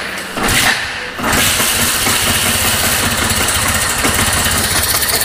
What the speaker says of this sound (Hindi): हम पहले इसके इंजन को स्टार्ट करते हैं और आपको इसका साउंड सुनाएंगे।